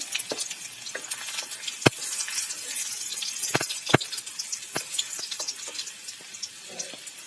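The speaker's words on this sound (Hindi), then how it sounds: "ऑयल हमारा गर्म हो चुका है, तो इसमें हम डाल देंगे ये थोड़ा सा लहसुन कटा हुआ बारीक, इसे हम डाल देंगे।" Finely chopped garlic sizzles in hot oil for street-style veg chowmein, a steady close crackling hiss with sharp pops scattered throughout and no talking.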